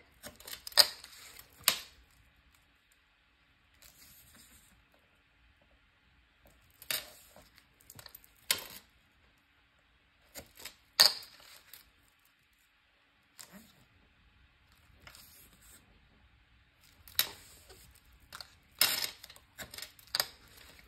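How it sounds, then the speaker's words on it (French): A Spider-Man charm bracelet taps against the edge of a work surface during paper crafting, making sparse, sharp clicks and clacks scattered across a quiet room, with no speech. "Mon bracelet, il fait du bruit,"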